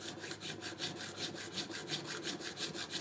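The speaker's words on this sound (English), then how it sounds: "So I'm honing this to 1200 grit." A cabinet scraper bevel is honed on a fine 1200-grit diamond plate in steady back-and-forth strokes, a close, quiet rhythmic rasping of metal on abrasive at about four strokes per second.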